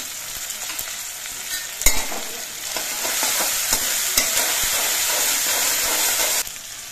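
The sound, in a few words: green chili paste frying and being stirred in a pan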